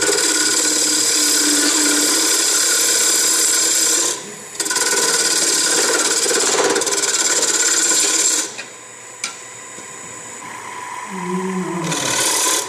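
Wood lathe turning a glued-up shallow bowl blank, a steady hissing, rasping cut of the tool against spinning wood, loud and close, with brief breaks as the tool lifts off and faint tonal squeals near the end.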